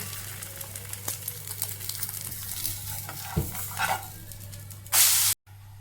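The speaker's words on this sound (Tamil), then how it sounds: "2 பக்கமும் நல்லா திருப்பி போட்டு வேக வச்சு எடுத்தாச்சு" A cabbage and drumstick-leaf egg omelette fries in a pan with a continuous close sizzle over a low steady hum, ending in a brief loud burst of spray and a sudden cutoff.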